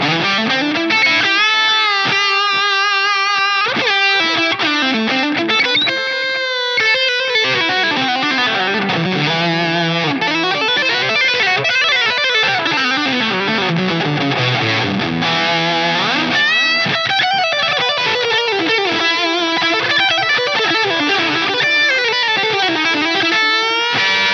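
A distorted electric guitar through a Line 6 Helix Legendary Drive (Steve Vai Legacy Drive) amp model plays a fast, busy lead line with delay repeats trailing each phrase, loud and continuous with no voices.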